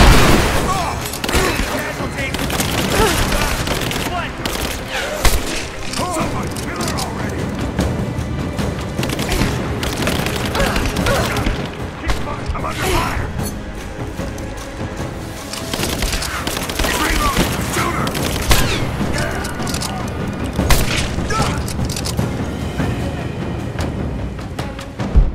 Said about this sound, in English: missile landing!